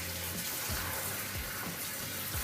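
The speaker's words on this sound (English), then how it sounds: "you take the noodles, slowly dump them in, spraying cold water on them." Cold tap water sprays steadily over cooked lasagna noodles in a sink, a continuous close hiss and splash with faint swirling sloshes underneath.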